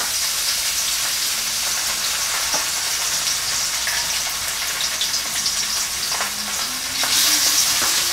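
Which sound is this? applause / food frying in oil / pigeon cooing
food frying in oil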